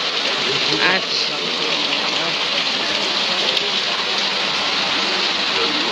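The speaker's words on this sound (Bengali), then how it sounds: "বৃষ্টি হচ্ছে, অনেক সুন্দর বৃষ্টি।" Rain falls steadily outdoors in a continuous, dense hiss with a faint splash near the start, close and even throughout, with no clear talking over it.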